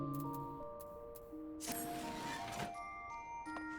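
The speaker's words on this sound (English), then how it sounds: "There's the bell." A chiming bell tone plays in Final Fantasy XIV: Heavensward, a soft sustained ring amid other light in-game tones and a brief swell of background noise, fairly faint with no talk.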